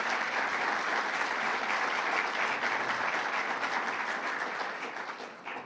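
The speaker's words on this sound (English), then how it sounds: "let's give a round of applause to Governor Phil Murphy" Sustained audience applause for Governor Phil Murphy at a Climate Week announcement, a steady dense wash of many hands clapping that fades slightly at the end.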